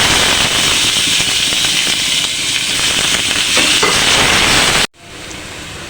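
Onions dropped into a hot pan for a pumpkin dish, a loud, dense crackling sizzle that runs steadily before cutting off abruptly, then a quieter fizzing resumes.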